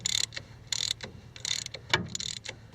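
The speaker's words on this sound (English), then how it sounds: "now we're tightening up our bolts that go through the frame into the cross member" Ratchet with a 15/16 socket tightening the frame-to-cross-member bolts on a Jeep CJ-5 during a motor mount swap, heard as four bursts of rapid metallic clicking with short gaps between them.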